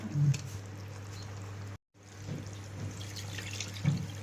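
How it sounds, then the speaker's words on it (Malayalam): Thick coconut milk (first extract) poured into a simmering Kerala-style beef curry, a soft running liquid sound with light splashes that cuts out briefly and then resumes. "ഇതിലേക്ക് ഞാൻ ചെയ്യാൻ പോകുന്നത് 1-ാം തേങ്ങാപ്പാൽ ഒഴിക്കാൻ പോകും"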